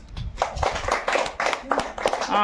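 Children clapping during a bangle game, a ragged burst of hand claps mixed with chatter and voices close by.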